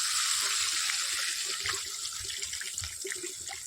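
Water pours steadily into a pan of potatoes and fish curry spiced with cumin, ginger and chilli paste, a close, constant rushing splash that softens slightly with some sizzling underneath.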